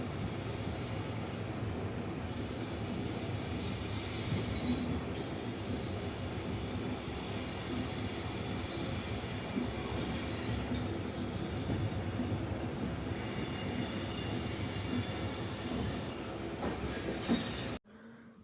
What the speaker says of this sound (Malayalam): Venad express Shoranur junction railway സ്റ്റേഷനിലേക്ക് കയറുകയാണ്